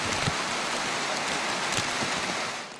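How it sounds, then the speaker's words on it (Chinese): Heavy rain and floodwater pour down through a hillside village in Pok Fu Lam, Hong Kong, a dense, steady roar of rushing water and downpour filling the whole clip with no voices. "嗰啲雨不停係咁樣，好似倒水咁樣。"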